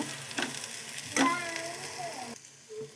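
Sprouted moong beans fry and get stirred in a pan, with soft sizzling and a few scraping, clattering stirs of a spoon against the metal before the sound drops away.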